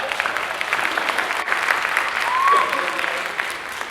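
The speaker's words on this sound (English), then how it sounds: "let's give them a big round of applause." Audience applause for a troupe of four improvisers at a live comedy show, a steady, full crowd clapping that swells briefly midway with a faint whoop before settling.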